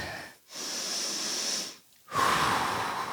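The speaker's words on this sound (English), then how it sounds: "Breathe, nice deep breath in through your nose." Two deep breaths in through the nose during a plank exercise, each a long hissing inhale close to the mic, separated by a short pause, with no talking.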